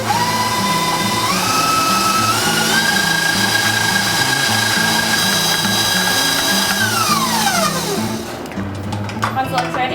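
An electric stand mixer whips softened butter with herbs, its motor whirring steadily and stepping up in speed before winding down near the end.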